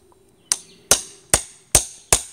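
A hammer strikes a flat-headed crowbar into the corner of a wooden pallet block five times in an even rhythm, each blow a sharp, close metallic crack with a short ring.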